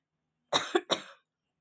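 Two or three quick, dry coughs in a short burst, close and fairly loud, then silence.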